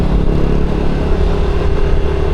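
Motorcycle engine running steadily up close for a few seconds, a continuous loud low drone with a rumbling rattle and no pauses, as if heard while riding.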